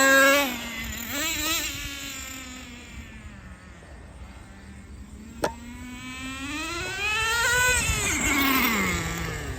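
Traxxas Nitro Rustler RC car nitro engine running loud and close, a high buzzing whine that rises and falls in pitch as the throttle is worked, with a sharp click midway.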